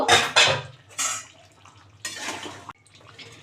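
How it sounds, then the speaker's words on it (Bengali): A metal lid clatters and scrapes as it is lifted off a pot of masala chicken, with sharp clinks and rattles, then a spell of quieter sizzling and steam. No voices are heard. "এবার ঢাকনাটা খুলে দেখব"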